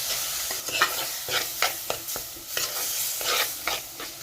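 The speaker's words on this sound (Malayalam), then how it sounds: "ഇനി നമുക്ക് എടുത്ത് വെച്ചിരിക്കുന്ന മഞ്ഞൾപ്പൊടി, മുളക് പൊടിയും കൂടി ഇതിനകത്തേക്ക് ചേർത്ത് നല്ലതായിട്ടൊന്ന് ഇളക്കി കൊടുക്കാം" Turmeric and chili powder are stirred into a sizzling sautéed base for a fish curry, with repeated scraping spoon strokes over a soft, constant frying hiss.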